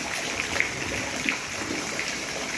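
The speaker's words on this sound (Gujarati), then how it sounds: "કન્ટિન્યુ સવારનો વરસાદ ચાલુ જ છે." Steady rain falls continuously during a morning downpour at a rural home, a broad even hiss with a few faint drips, alone and with no talking.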